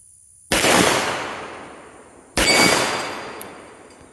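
Two sharp, loud shots from a Girsan RC 9mm pistol, spaced about two seconds apart, each a hard crack followed by a long decaying outdoor echo, with no talking.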